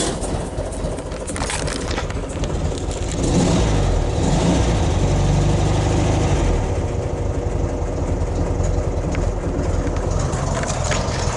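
A 1969 Volkswagen Beetle air-cooled engine cold-starting by push button, catching and revving unevenly with a weak auto choke, then settling into a loud, steady mid-pitched idle that runs throughout.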